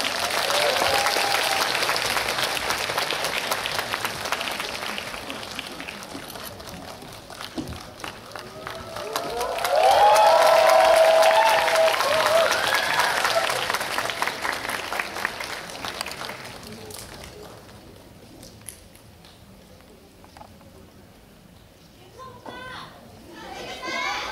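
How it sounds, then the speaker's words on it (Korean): Applause from a live audience greeting a film director and cast at a live talk event, swelling to a loud peak midway and fading, with children's voices and crowd chatter throughout. "박수로 뜨겁게 맞이해주세요."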